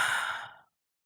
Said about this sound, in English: Do a box breathing session real quick for 30 seconds